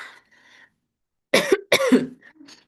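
Two sharp, hoarse coughs in quick succession, close and loud, after a brief faint murmur, with a soft trailing breath at the end.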